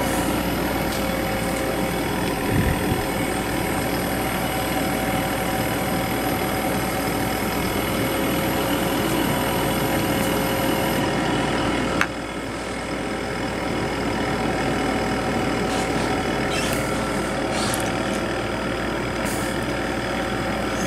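A 1997 Sharp window air conditioner runs on medium fan speed, giving a steady, close, continuous broadband whir and hum with a low mechanical drone, fairly loud and unbroken, with a brief shift partway through.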